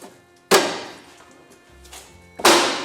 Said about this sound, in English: You heard the flaps the whole way up and down.